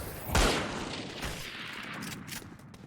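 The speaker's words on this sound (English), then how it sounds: "That was a disgusting shot there from Shades, followed by Todd's with 2 kills there from the Frenzy." Gunfire in a Valorant esports match on the Ascent map, a sharp loud shot followed by a few fainter shots and a spread-out burst of fire, with no talking.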